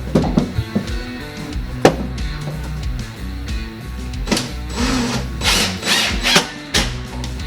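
A loud power drill whirs steadily, drilling pocket holes into wood, with sharp clicks and knocks punctuating the continuous mechanical grinding.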